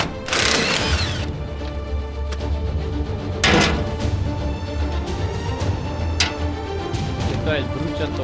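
A wrench clicks and scrapes against metal while a burner is repaired, with sharp ratcheting and clanking bursts over a low steady hum as people talk nearby.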